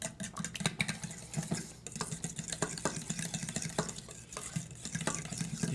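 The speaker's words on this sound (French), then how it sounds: "je vais brasser." A spoon stirs marinade in a hot pan, making repeated close scraping and clinking strokes over a soft sizzle, with no speech.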